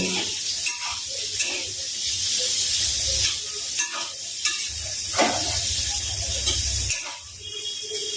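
Onions sizzle loudly in hot oil in a pan while being stirred for a Bengali katla fish curry, giving a continuous close hiss with scraping stir sounds rising and falling throughout.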